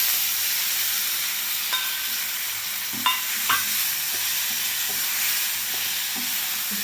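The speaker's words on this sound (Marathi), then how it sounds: "आता आपण हे जे कट करून घेतलेला टोमॅटो आहे तो त्यामध्ये घालायचा आहे बघा." Chopped ripe tomatoes sizzle in a pan of hot oil with red chili for a spicy tomato chutney, giving a steady close frying hiss broken by a few scraping stirs.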